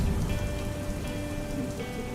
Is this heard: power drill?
no